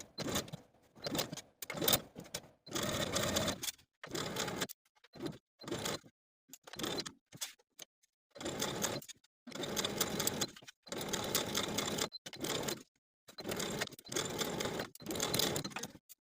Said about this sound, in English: Then we can sew our facing to the neckline with a 5/8 inch seam allowance